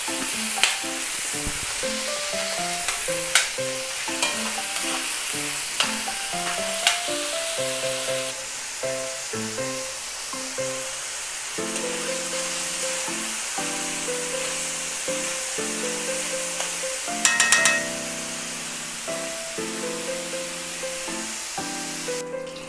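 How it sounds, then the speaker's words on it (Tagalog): Pork sizzles and fries in a pan while being stirred, a steady broadband hiss with soft scraping stirs, heard close; background music with tonal notes plays throughout. "Halu-haluin na natin ito, no, hanggang sa maluto or mag golden brown."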